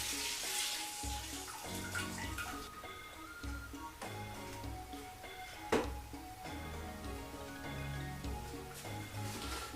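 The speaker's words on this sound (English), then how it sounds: "So that's the milk pour." Pasteurised, homogenised full cream milk pours steadily into a pot for cheesemaking, a continuous splashing stream with a few faint clinks and knocks, no talking.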